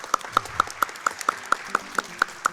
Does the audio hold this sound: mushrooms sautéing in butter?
no